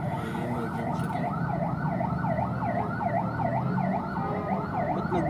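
An ambulance siren on a city street during a lockdown, wailing in a steady repeating up-and-down sweep under low traffic rumble, moderately distant and continuous throughout.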